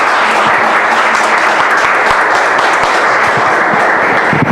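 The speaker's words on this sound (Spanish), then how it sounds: "démosle un aplauso a las mujeres por el Día Internacional de la Mujer" A church congregation gives a loud, steady round of applause to the women for International Women's Day, dense clapping filling the room with almost no talk.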